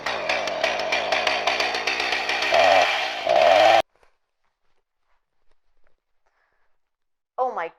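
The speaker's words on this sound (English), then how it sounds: "chainsaw this door open." A chainsaw roars loudly and continuously as it cuts through a door, revving higher near the end, then stops abruptly into near silence broken by a brief sound at the very end.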